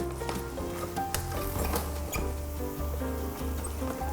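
Nasi kebuli rice being stirred in a pan, a steady scraping and soft pattering of grains turned over and over against the metal, close and continuous with a faint sizzle beneath.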